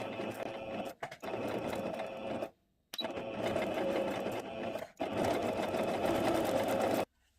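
A sewing machine with a presser foot stitches fabric for a bow in three long, steady runs of rapid mechanical whirring, stopping briefly between bursts, close and loud with no talking.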